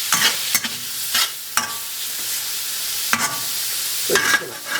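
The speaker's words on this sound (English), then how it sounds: "Browning your pork should only take a few minutes, like 2 or 3 minutes, shouldn't take very long." Pork sizzles as it browns in a frying pan, with a steady close crackle broken by several sharp scraping stirs of a utensil against the pan.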